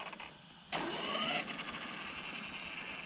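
A HoBao MTX RC car's electric motor spins up under throttle on a high-grip surface, a sudden rising whine and whir that bursts in loudly, peaks briefly, then settles into a steady hum.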